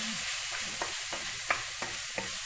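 Gooseberry stir-fry for Kerala nellikka thoran sizzling in an open pan on a low flame, with a spatula scraping and stirring in a series of short, evenly spaced strokes over the constant frying hiss.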